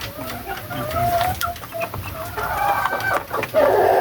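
Chicks in a Filipino backyard coop with fresh sand bedding give high chirping calls, with scattered bird sounds and some clucking from nearby fowl in a busy outdoor setting.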